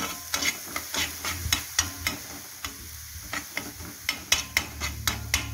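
Egg tawa masala frying in a pan, a steady close sizzle broken by a run of sharp spatula scrapes and taps against the metal at an uneven rhythm, with no talking.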